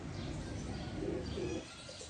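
Soft pigeon cooing in a few low, rounded phrases over steady background noise, close by and fairly quiet.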